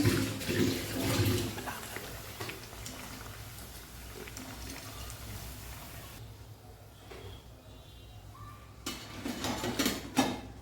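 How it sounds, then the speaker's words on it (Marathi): Sabudana vadas fry in oil over a low gas flame, giving a steady bubbling sizzle throughout that briefly softens midway and then swells again. "आता एक एक करून आपण वडे तळून घेऊया गॅस फुल करायचा नाही कमी मंद गॅसवरच ते तळायचे"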